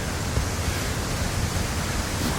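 Steady, dense rush of flowing water, like a nearby stream or small waterfall, at Franconia Notch State Park, continuous and unbroken.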